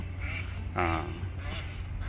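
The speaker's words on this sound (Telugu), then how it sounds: "బాతులు ఎగురుకుంటూ వెళ్తున్నాయి" A duck gives a short, loud quack, with softer quacking before and after over outdoor background noise.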